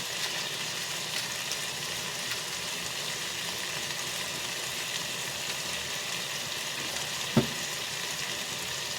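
Chopsuey vegetables fry in a pan with a steady, close sizzle and one brief knock partway through, with no voices.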